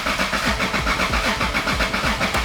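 A Toyota Supra MK4 engine cranks over and over without catching, a steady rhythmic churning of the starter that pulses several times a second, close and loud with no pause.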